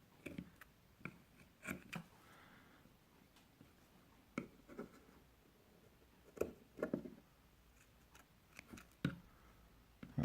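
Small pair of scissors snipping through material while building a Skywalker 24 mm RDA, heard as scattered short close clicks and snips at an irregular rhythm, quiet and without talk.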